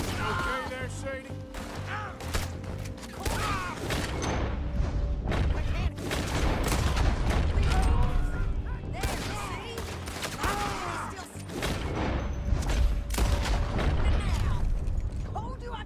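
Heavy gunfire in the Western game Red Dead Redemption 2: dense, continuous volleys of shots and echoing booms fill the scene, with voices talking intermittently over the shooting.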